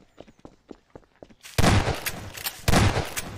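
Gunfire in the Garry's Mod sandbox game: two loud, sustained bursts of shots, each cutting in abruptly and then decaying, following a stretch of quiet, broken low noises.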